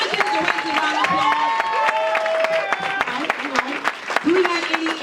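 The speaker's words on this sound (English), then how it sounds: "Let's give the directors a round of applause." Audience at a motivational business seminar applauds and cheers the directors in the room, a mix of clapping and excited shouts and whoops from many people, with voices calling out over the clapping throughout.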